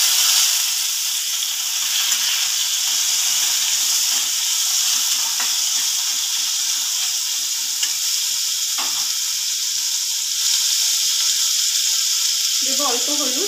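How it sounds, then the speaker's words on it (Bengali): Taro stolons frying in a pan with black cumin and green chillies, a steady bright sizzle and hiss continuing throughout, with occasional stirring scrapes. "এবারে সব একসঙ্গে ভালো করে ভেজে একটু কয়েক সেকেন্ড দিয়ে দিচ্ছি জল ঝরিয়ে রাখা"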